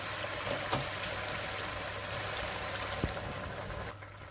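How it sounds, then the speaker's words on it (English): About a cupful of water pours into a pot of brown stew chicken and its juices, a steady close hiss and splash that lasts a few seconds before tapering off, with no talking. "I'm going to add water"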